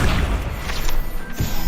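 Accio summoning spell cast in the Hogwarts Legacy video game, a dense magical whoosh and rumbling impact lasting under two seconds, loud and continuous with a brighter swell near the end.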